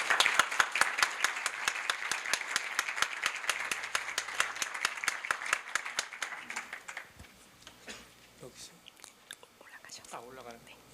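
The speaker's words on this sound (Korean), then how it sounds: "큰 박수로 맞아주시기 바랍니다." An audience at a Korea University business school event applauds to welcome a speaker, a close burst of many claps that fades out around seven seconds, followed by soft shuffling and faint voices.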